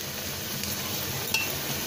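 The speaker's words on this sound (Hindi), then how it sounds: "प्याज को हम हल्का सा सोटे कर लेंगे, इसे हमें लाइट ब्राउन नहीं करना है, इसे हल्का सा सोटे करना है।" Chopped onions lightly sautéing in a pan for mutton hari-mirch keema, a soft steady sizzle with a faint clink of a spoon against metal partway through, close and even, no voices.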